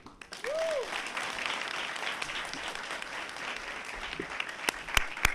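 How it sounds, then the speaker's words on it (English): Applause from a crowd at a graduation ceremony honouring award winners, a steady wash of clapping with a few sharper claps and faint voices mixed in. "another round of applause for our award winners"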